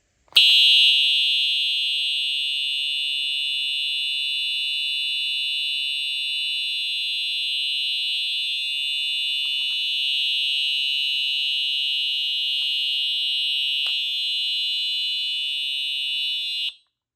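A Simplex TrueAlert fire alarm horn blares loudly and piercingly at a steady pitch, starting abruptly and cutting off sharply after about sixteen seconds.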